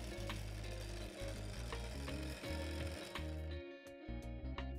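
A small drill with a 1.5mm bit boring into the rivet post of a die-cast Matchbox 11c Taylor Jumbo Crane, a steady close mechanical whine with a rough grinding buzz that runs throughout and dips briefly near the end.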